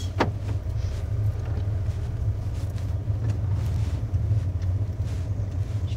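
A PSA car driven normally on the road during an autonomous car test, its steady low engine and road rumble heard from inside the cabin with no voices.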